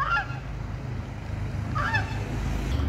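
Ducks by a river in the hills of Almora give two short bursts of honking quacks a moment apart, heard at middle distance over a steady low rumble of flowing water.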